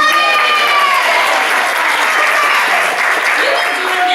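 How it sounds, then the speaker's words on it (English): A crowd applauds and cheers singers performing, a dense, loud wash of clapping with voices mixed in, steady throughout. "And the crowd cheers them on."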